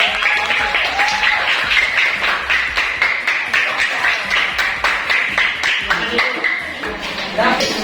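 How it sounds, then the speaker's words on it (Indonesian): A classroom group of students receives steady applause, dense overlapping clapping filling the whole stretch with a continuous rhythmic patter, close and loud. "dan tepuk tangan buat kelompok"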